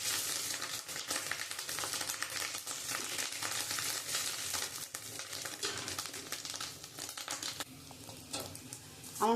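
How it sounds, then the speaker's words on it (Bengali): Fish roe frying in oil with salt and turmeric, for a pointed gourd dish: a dense, steady sizzle that crackles on throughout, fairly loud and close, with a few louder spits near the end and no talk. "আমি নুন হলুদ দিয়ে আমি মাছের ডিমটা ভাজতে দেবো"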